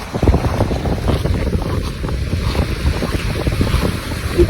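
Strong ocean waves and gusty wind batter the microphone at Canimog island, a continuous loud roar with heavy low rumble and surging wash throughout.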